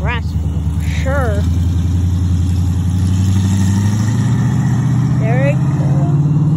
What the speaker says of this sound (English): Oh, I hear that supercharger.